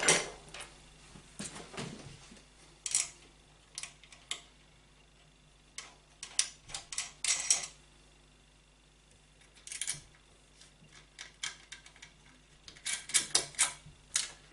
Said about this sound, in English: Get our three locking nuts to go on the back.